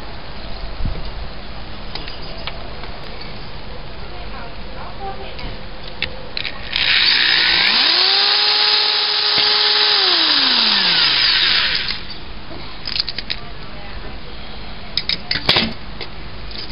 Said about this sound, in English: So we'll go ahead and get one of these holes drilled.